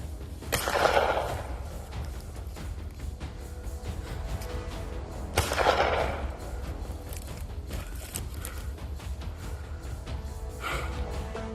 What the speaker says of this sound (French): Il a eu de la chance que 2 tirs de sommation aient suffi à le sauver.